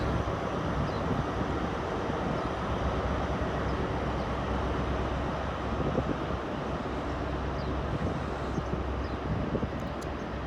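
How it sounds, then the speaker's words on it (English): A Castle class steam locomotive hauls a train past Taunton on the Great Western Main Line, a steady broad rumble of rolling stock and engine noise lasting throughout, with wind buffeting the microphone. "Love the sound of a castle set, I always do."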